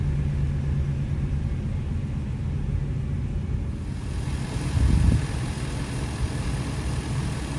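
A 2014 Ford E-350 Super Duty box truck's 5.4 liter flex fuel V8 with a 5-speed automatic idles nearby, a steady low rumble with one brief swell partway through, and no talking.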